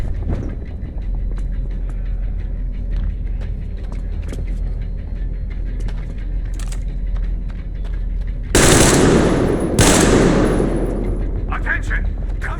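Covering gunfire in the video game Metro Exodus, with continuous rapid automatic weapon bursts throughout, swelling into louder, denser volleys near the end, loud and close over a low rumbling backdrop.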